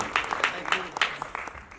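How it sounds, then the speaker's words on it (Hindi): Scattered audience clapping at a film festival event, coming in uneven bursts of claps while a voice speaks over them, moderately loud and fairly close. "जोरदार तालियां सुनील भाई के लिए"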